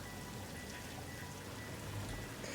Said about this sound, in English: rain runs down the surface of your viewport helmet